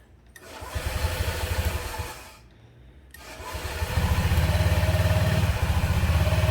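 A motor engine cranks and catches, dips briefly, then settles into a loud, steady, rapid idle, close by and alone with no talking.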